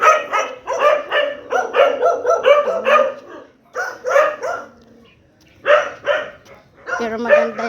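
Several pet dogs bark in loud, rapid bursts at someone arriving during a morning walk, with yips and a short pause before the barking resumes, mixed with talk.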